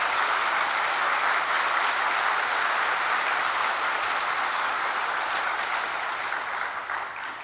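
Steady, sustained applause from an audience at a formal monthly assembly with an award ceremony, a dense wash of clapping that holds evenly for several seconds and tapers slightly at the end.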